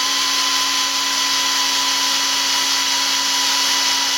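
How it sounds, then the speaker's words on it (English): A power drill whines steadily at high pitch, loud and close, running continuously without pause while drilling a fat bike rim on a built wheel. "make sure the drill's pointing straight at the hub, and not too high of speed"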